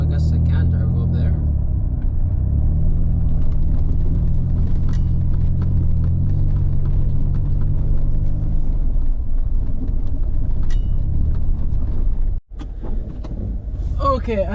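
A car climbs slowly up a road near Twillingate on a Canadian road trip, giving a steady low engine and road rumble from inside the vehicle for the whole stretch, with a brief sharp dropout near the end.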